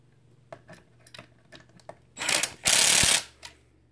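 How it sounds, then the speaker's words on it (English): A drill clutch clicks rapidly in a loud mechanical burst while tightening the slipper clutch on a Traxxas X-Maxx RC truck, after a few lighter taps and knocks, then stops abruptly. "That clutch clicking is really going to tighten things up."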